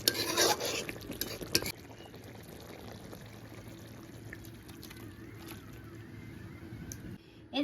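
A spoon stirring a whole fish curry in a pan with slit green chillies and garam masala powder; a few scraping strokes up front, then a soft, steady bubbling and stirring texture.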